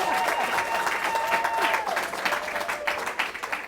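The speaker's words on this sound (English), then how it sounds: "You need to clap for the doctor." An audience applauds a doctor with steady, dense clapping that holds at a fairly even level for a few seconds, with faint voices mixed under it.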